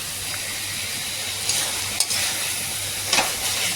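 Ginger and garlic are stir-fried in a pan with a steady sizzling hiss, broken by a few sharp scrapes and clinks of stirring.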